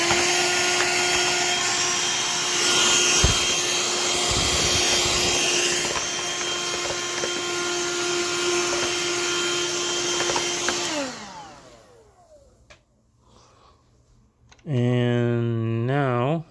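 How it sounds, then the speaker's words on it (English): A loud Kobot RV353 robot vacuum drones steadily with a high whine, then shuts off and winds down; after a quiet pause a motor starts up again briefly. "Now vacuum it again."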